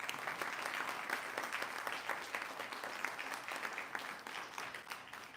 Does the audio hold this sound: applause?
yes